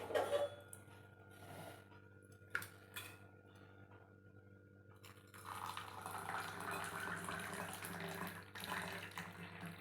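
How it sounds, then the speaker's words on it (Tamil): Milk is poured into a pan while making almond powder drink, giving a soft, steady liquid splash and trickle that swells after a few light clinks, close by and moderately quiet. "இப்போ பாலை ஊற்றி"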